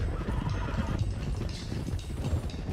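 Horses in Red Dead Redemption 2 whinny and neigh over steady clip-clop hooves as a group travels along, a dense continuous layer of near hoofbeats and animal calls.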